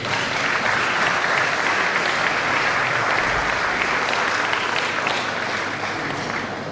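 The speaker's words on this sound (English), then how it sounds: "I think the panel deserves another round of applause." At a bar association law week event, the audience gives the panel a loud, sustained round of applause that stays dense and even for the whole stretch, easing slightly near the end.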